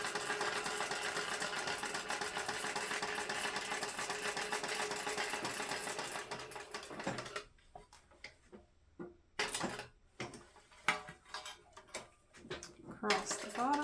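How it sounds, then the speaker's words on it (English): Sewing machine back stitching a pocket onto a bag, a continuous close mechanical whir for several seconds, then short stop-start bursts with handling clatter in between. "Back stitching over where our pocket meets the back piece."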